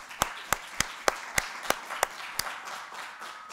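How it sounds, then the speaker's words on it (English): Slow, evenly spaced claps from a small audience at a meeting, about nine sharp distinct hits that then fade into softer scattered clapping, fairly quiet. "So please join me in giving them a round of applause."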